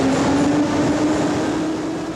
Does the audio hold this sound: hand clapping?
no